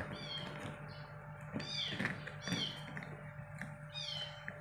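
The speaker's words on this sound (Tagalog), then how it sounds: "yung meowing pusa lang namin yan" A pet cat meows several times indoors in a home kitchen where a toy cheeseburger is being made. The cries are faint, separated and drawn out over a steady low electrical hum.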